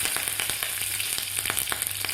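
Mustard seeds, cumin and cut green chili sputter in very hot oil for a tempering, a loud, close, steady sizzle dotted with rapid popping crackles from the seeds.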